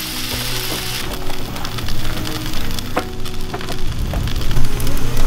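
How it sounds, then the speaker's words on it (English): Liver mush fries in peanut oil on a flat top over medium-high heat, giving a steady close sizzle with crackling pops throughout. "So we're just cooking it on the flat top."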